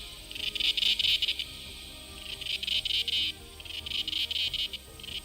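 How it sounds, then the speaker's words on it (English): Cicadas in a forest make a high, pulsing buzz in bursts of about a second, rising and falling in waves that fill the surroundings. "cicadas make a pleasant sound that envelops you from all sides"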